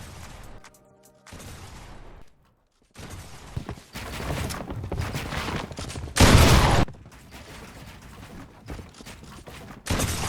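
Bursts of Fortnite gunfire ring out as a player shoots an opponent, with rapid shots, mechanical building clicks and one loud blast near the middle, all close and fairly loud with no talk.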